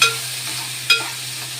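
Tomatoes fry with ginger paste while a utensil stirs the pan, making two short scraping strokes over a soft sizzle and a low steady hum.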